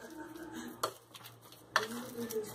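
A spoon stirring sweet potato and oat batter in a bowl, soft scraping with two sharp clinks against the side, fairly quiet and close.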